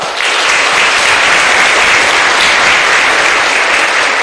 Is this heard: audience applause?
yes